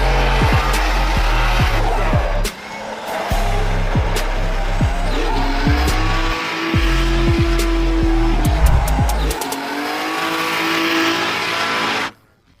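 Car drifting at Drift Open Kielce, its engine droning and revving hard with bouncing rev-limiter pulses, gear changes and tire squeal, fairly close and loud for about twelve seconds.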